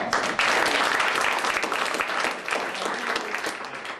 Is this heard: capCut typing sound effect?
no